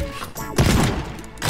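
A shotgun fires in the destruction game Teardown and smashes through a brick wall: one loud, close boom followed by a sustained, crumbling roar of breaking masonry and scattering debris.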